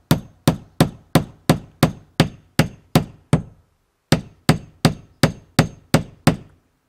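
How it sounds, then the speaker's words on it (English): Nails are hammered into a wooden stud wall with natural wool insulation in two runs of sharp, evenly spaced blows, about a dozen strikes with a short pause between, close and loud with no talk. "Grab a hammer, you can whack one in."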